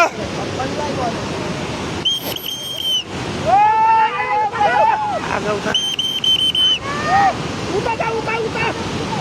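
Steady roar of a flooding river rushing in the Nalgad area of Jajarkot, Nepal, with people talking and calling out over it and occasional sharp whistle-like tones.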